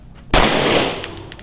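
A single loud gunshot at an outdoor firing range, a sharp close blast followed by a broad echoing decay, with faint background noise.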